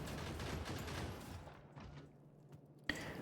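Gun turrets in Factorio firing at biters, a dense rapid crackle of distant automatic fire that thins out and fades, quiet under a soft game backdrop, ending with a sharp click.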